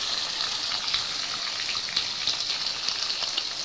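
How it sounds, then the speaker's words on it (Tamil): Onions with green chillies sautéing in a pan for a crab curry, a steady bright crackling sizzle like light rain that runs without a break, close and moderately loud, with no talking. "வெங்காயம் நல்லா வதங்கணும்."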